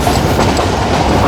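A train rolls across a railway bridge over a river, with a road running above the tracks; a loud, close, steady rumble with rhythmic clickety-clack of wheels on rails.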